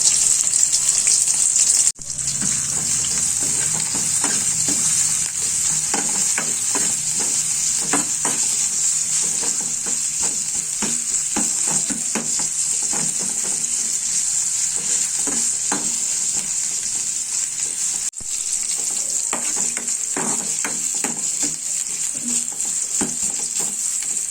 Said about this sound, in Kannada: ಇದು ಸ್ವಲ್ಪ ಕಂದು ಬಣ್ಣ ಬರೋವರೆಗೂ ನಾವು ಎಣ್ಣೆಯಲ್ಲಿ ಬಡಿಸ್ಕೋಬೇಕ್ರಿ